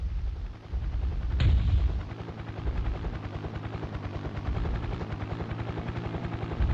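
A MechWarrior 2 mech fires its grouped weapons in the DOS game: a sharp blast followed by rapid, rhythmic thudding pulses over a constant low mechanical drone, with no voices.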